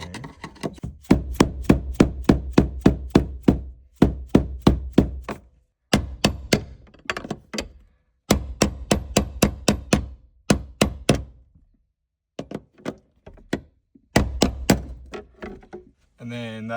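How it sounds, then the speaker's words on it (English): A mallet knocks a screwdriver against a B58 fuel pump locking ring in repeated dull thunks, coming in quick runs with short gaps, while a person talks over some of the strikes. "putting a screwdriver in like that, and kind of hitting it with a mallet"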